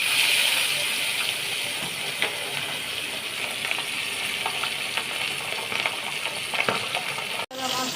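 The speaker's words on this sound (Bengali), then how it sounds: "পাবদা মাছগুলো ছেড়ে দিচ্ছি তেলে।" Pabda fish sizzling in hot oil, a loud, steady, close frying hiss with occasional crackles and pops throughout.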